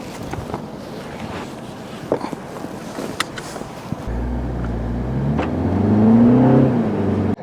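A 2025 Mini Convertible drives along, wind and road noise at first, then a close engine drone that rises in pitch as the car accelerates through the final seconds.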